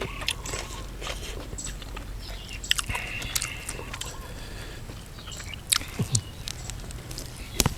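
Close, crunchy bites and wet chewing on soft food, with irregular sharp crackles and no talking.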